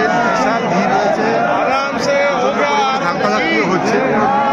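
A huge crowd packs the Ram Mandir in Ayodhya on its opening day, its dense chatter forming a loud, continuous babble of many overlapping voices close around.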